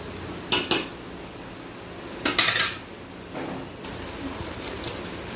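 Vegetables sautéing in a pan for vegetable biryani are stirred with a metal utensil: two quick clusters of clinking knocks against the pan, then a quieter stretch of soft scraping and faint frying.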